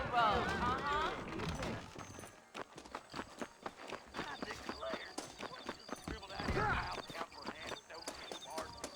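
Steady clip-clop of horse hooves trotting along in Red Dead Redemption, mixed with creaking and rustling, as voices talk over the hoofbeats at the start and near the end.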